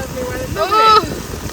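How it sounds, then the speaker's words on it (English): Gusty wind rushes against the microphone in a steady roar at an outdoor medieval festival in the rain, with a voice briefly crying out over it. "Oh my god, it's windy as well."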